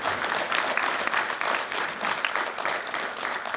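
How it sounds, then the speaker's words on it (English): A seated audience gives a dense burst of applause at an academic session, many hands clapping steadily for a few seconds at even loudness. "A big applause."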